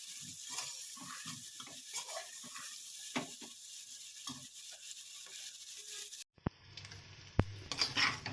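Vegetables fry in a pan for bhuna khichuri, with a soft sizzle under repeated scraping, clacking stirring strokes, then a sudden shift to a quieter sizzle with a few sharp knocks.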